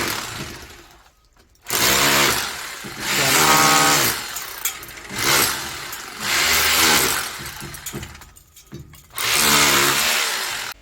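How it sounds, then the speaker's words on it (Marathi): An engine-powered earth auger digs holes at a rural Konkan building site, its loud, close motor revving in repeated surges with brief idle drops between bursts. "त्या मशीनला चिपर म्हटलं जातं त्याच्याने खड्डे मारतात"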